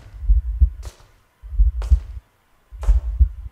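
Heartbeat pounding in the horror game Slender Man's Shadow: Elementary, three loud low double thumps about a second apart, each pair followed by a brief breathy rasp, with silence between.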